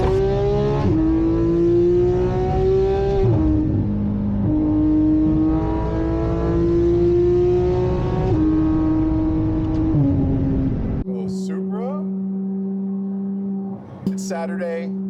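Car engines drone and rev loudly and close by, pitch climbing and dropping through repeated gear changes, then settling into a steadier idle with brief sharp bursts near the end.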